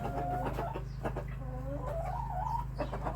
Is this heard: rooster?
yes